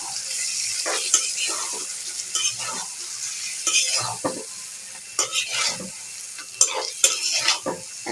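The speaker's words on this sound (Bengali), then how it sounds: "এখন আমি চিকেনগুলোকে ভালো করে কষিয়ে নেব।" Chicken pieces frying in spice masala in a pan, with a soft sizzle under repeated scraping and clinking stir strokes of a spoon against the pan, irregular in rhythm and close up, without talk.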